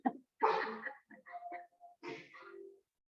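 A sneeze bursts out during a Pilates class, with short nasal, throaty sounds and a second burst after a pause, close and fairly loud.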